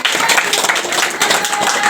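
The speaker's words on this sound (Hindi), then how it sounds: "चला को ताली बजा दो।" Dense, steady clapping from a gathered crowd at an outdoor religious gathering in Kambo, Mandar, Ranchi, continuous and fairly loud throughout with no pauses.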